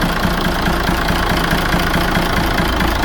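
A six-cylinder diesel of about five thousand cc, on a sedan boarding a vehicle ferry, runs at a steady, loud idle with a rough, even rumble throughout, no talking.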